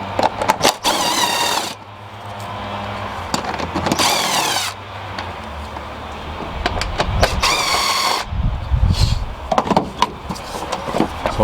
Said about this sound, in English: remove the two 10mm bolts that are holding on the airbox lid